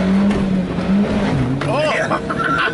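A 1991 Subaru Sambar 4WD kei van with its small engine mounted on its side pulls along in first gear, a steady low engine drone throughout with a rising whine near the end, while people talk over it inside the cab.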